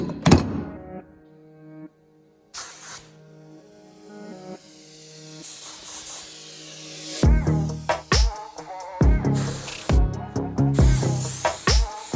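Short bursts of aerosol spray paint hissing onto a car valve cover between thumps and clatter, the sprays growing denser and louder toward the end.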